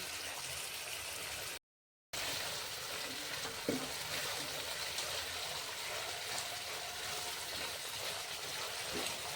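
Paneer curry with no onion or garlic sautéing in a pan, a steady, close, broadband sizzle with faint stirring scrapes throughout, briefly cut to silence near the start.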